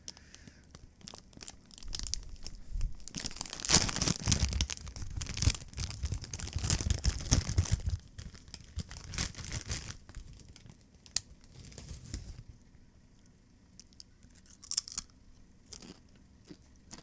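A bag of Cool Ranch Doritos is opened and handled, giving fairly quiet bursts of crinkly plastic rustling and tearing mostly in the first half, then sporadic softer crackles.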